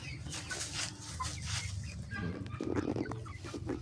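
Rhode Island Red chickens cluck in a pen, several close, irregular calls over steady background noise, with faint voices in the mix.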